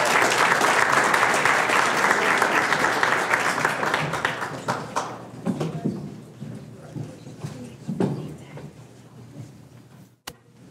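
An audience claps for startup founders at an entrepreneurs' seed fund demo day. Full, dense clapping opens loudly, then thins over several seconds into scattered individual claps and a few last sharp hits before quiet.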